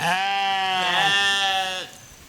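A single loud, close sheep bleat, wavering for nearly two seconds before cutting off.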